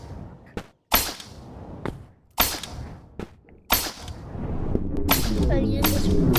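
Gunshots ring out as several sharp, loud cracks spaced a second or so apart, each with a short decay, with a brief voice and rising background noise near the end.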